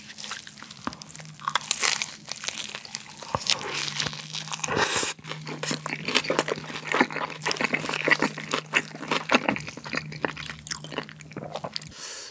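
Someone bites into and chews a McDonald's Jindo green onion cream croquette burger up close, with crisp crunches, wrapper crinkles and moist chewing in an irregular rhythm, no talking.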